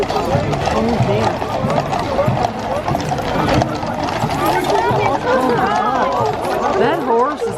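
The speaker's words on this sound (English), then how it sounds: "That horse is having a hard time." Horse hooves clop on the road at the Trooping the Colour parade in London, amid a busy crowd, with people chattering nearby throughout.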